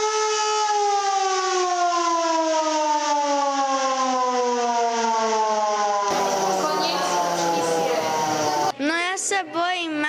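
A civil defense siren being tested in a civil protection shelter, loud and steady, its tone sweeping slowly downward as it winds, then giving way to a noisy stretch and brief wavering bursts at the end.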